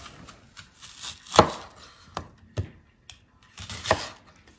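Knife chopping a medium onion finely on a cutting board, a handful of sharp, irregular close-up knocks separated by short pauses, quiet otherwise with no talking.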